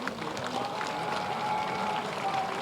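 A large audience at a government cyber security centre inauguration in Lucknow stands and claps to welcome Amit Shah, producing a steady, continuous wash of applause that holds at even loudness from start to finish.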